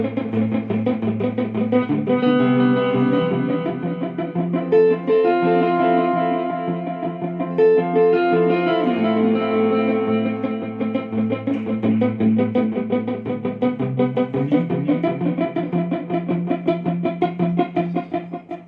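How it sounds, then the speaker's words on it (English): Shoegaze-style electric guitar is played faster than its delay, with heavy reverb and repeats smearing the notes into a dense, continuous wash that stays loud for the whole stretch. "now I'm playing faster than the delay"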